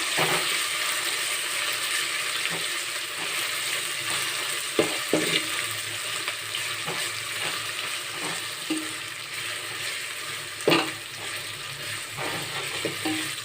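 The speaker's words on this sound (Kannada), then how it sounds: "ಕೊತ್ತಂಬರಿ ಸೊಪ್ಪನ್ನು ಸೇರಿಸ್ಕೊಳ್ಳಿ ಸೇರಿಸ್ಬಿಟ್ಟು ಈ ಥರ ಮಿಕ್ಸ್ ಮಾಡ್ಕೋಬೇಕು" Flattened-rice pulao with coriander leaves is stirred in a hot pan, a continuous close sizzle broken by occasional sharp scrapes and clinks of the spoon against the pan.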